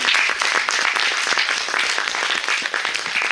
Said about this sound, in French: je vous propose d'applaudir et de remercier le